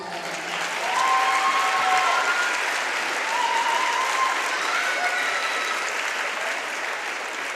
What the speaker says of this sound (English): Good clap for her again.